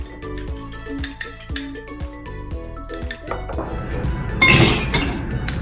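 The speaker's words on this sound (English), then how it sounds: "just use a fork and just whisk it" A fork whisks egg wash in a bowl with quick, sharp metallic clinks in a steady rhythm, close and clear, ending in a burst of faster, louder scraping and tapping.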